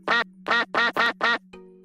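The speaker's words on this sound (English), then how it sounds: "What is all that quacking?" A duck quacks five times in quick succession, loud and close, in clear separate bursts with no talking.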